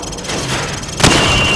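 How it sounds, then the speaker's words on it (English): A rifle is fired from the hip on a shooting range in Call of Duty 4, with a loud single booming shot near the end over a dense background rumble. "Now shoot at the targets while firing from the hip."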